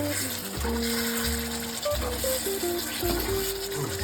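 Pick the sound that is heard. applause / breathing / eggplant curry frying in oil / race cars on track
eggplant curry frying in oil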